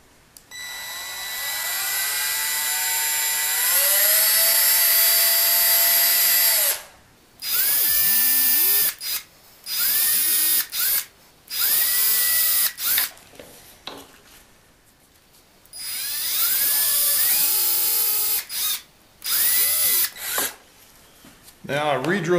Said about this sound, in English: I'm going to drill this out with a pilot drill.